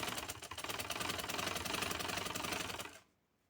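A sewing machine runs steadily for about three seconds, stitching a finishing seam along the edge of fabric for a V-cut round neck with lace. Its rapid, even mechanical chatter sounds close and clear, then stops abruptly, leaving near silence.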